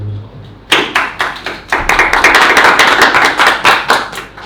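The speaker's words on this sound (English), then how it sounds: "So, applause for Dmytro." Scattered clapping from a small conference audience welcoming a speaker to an Ethereum security talk, starting with a few sharp claps and then swelling into a brief, close round of applause.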